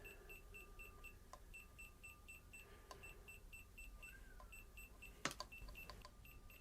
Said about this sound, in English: I don't know how well you can hear that, but it's beeping.